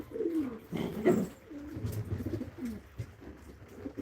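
Several pigeons cooing in low, throaty, rolling calls, close by and fairly continuous, with overlapping coos throughout.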